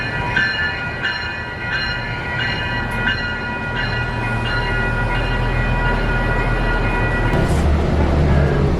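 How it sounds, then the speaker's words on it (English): A SMART commuter train at San Rafael rolls along with a steady low rumble and a regular rhythmic clicking of wheels over rail joints, with bright ringing tones above and the noise swelling louder toward the end. "our next mission is to get on the SMART train"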